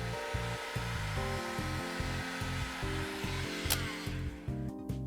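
A heat gun blows steadily while warming an iPhone 7 during a display repair, a continuous close airflow roar with a pulsing low hum and light handling noises over the top.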